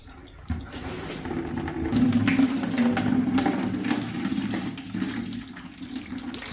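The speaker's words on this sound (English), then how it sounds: "Let all the coolant drop down into your bucket of choice." Engine coolant drains from a Jeep radiator into a bucket in a garage, a steady, fairly soft gurgling pour of liquid that continues throughout with no talking.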